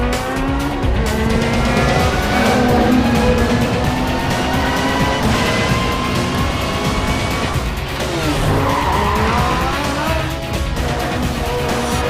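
Racing cars in the video game Need for Speed Most Wanted roar continuously, with engine notes rising and falling through gear changes and bursts of tire squeal and skidding, loud and close throughout with no talking.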